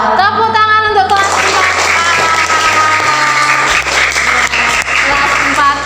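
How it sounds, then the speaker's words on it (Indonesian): A class of fourth-grade schoolchildren in an Indonesian classroom applauds, a dense burst of close clapping lasting several seconds with a sung or chanted tone over the start and a low steady hum underneath. "Tepuk tangan untuk kelas"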